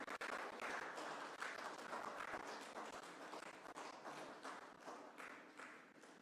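A crowd at BJP headquarters applauds steadily to welcome guests, a dense, even wash of many hands clapping throughout with no talk over it.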